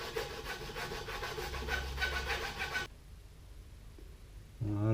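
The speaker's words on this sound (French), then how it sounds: "Et ensuite je viens ébavurer donc avec une lime à métal tout doucement, proprement le cul pour qu'il soit bien plat." A metal file gently deburrs the cut end of a fishing rod handle, close rhythmic rasping strokes for about three seconds, then quieter handling and a brief scrape at the end, no talking.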